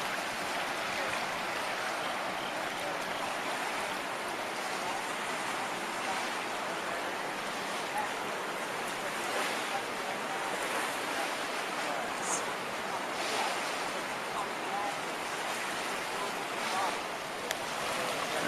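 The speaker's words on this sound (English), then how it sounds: "it's really flooding out today, and the water is moving out there," The flooded New River rushes past a boat ramp in Southwest Virginia as a steady, broad roar of moving water, with some wind buffeting the microphone.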